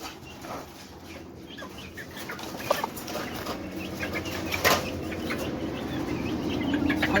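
Chickens cluck and peck in a cage, their scattered close calls and short bursts rising over a constant rustling background with a faint high whine.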